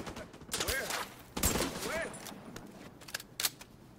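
Gunfire bursts in The Division 2 crackle in sharp clusters at moderate distance, mixed with voices talking over the shooting.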